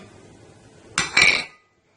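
While gram flour pakora batter with spices is mixed in a bowl, a spoon strikes the bowl in a quick metallic clatter. It rises suddenly from near quiet and fades within about half a second.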